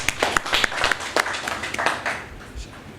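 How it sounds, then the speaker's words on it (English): An audience claps for Professor Jonathan Ayuba, named to an Edo 2020 screening committee, with a burst of dense, close applause that thins out over a few seconds while a voice speaks over it. "I think we should clap for him"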